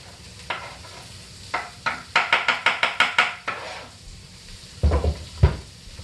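Cauliflower rice scraped into an oiled pan and stirred, a run of quick rhythmic scraping clatters over a faint sizzle, close and fairly loud, with a few louder knocks near the end.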